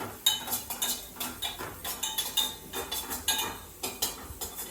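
Cumin seeds are dry-roasted in a pan and stirred constantly, giving a quick, regular clinking and scraping of a spoon against metal, close and fairly quiet.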